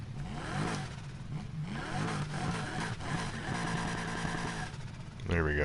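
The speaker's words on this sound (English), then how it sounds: "This car sounds awesome." A sports car engine revs and accelerates in the racing video game Need for Speed Heat, its whine rising and falling under steady talking by a player.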